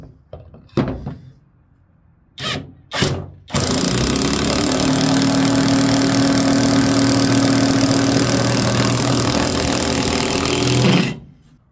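Alloyman brushless half-inch impact wrench driving a six-inch lag screw: a few short bursts and thumps, then a long, loud, continuous hammering rattle for about seven seconds that stops abruptly.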